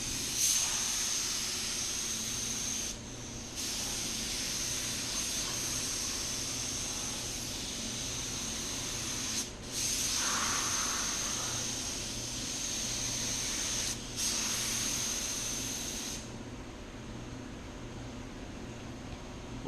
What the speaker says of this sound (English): I believe the gun he's spraying with is a 2mm tip.